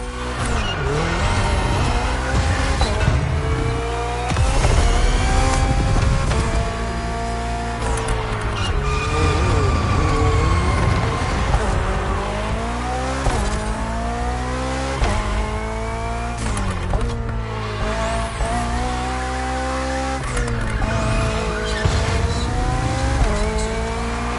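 Roaring BMW Hybrid V8 race car engine in The Crew Motorfest, loud and continuous, rising and falling through gear shifts with tire squeal and skids, no talk.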